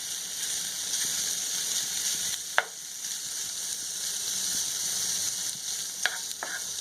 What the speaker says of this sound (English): What you're going to do is dump the bacon in there. Give that a good spread around real quick.